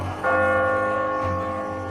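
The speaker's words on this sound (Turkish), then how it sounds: "Çan çalıyor." A church bell rings in The Walking Dead video game, two resonant strikes about a second apart, each leaving a long sustained ringing hum.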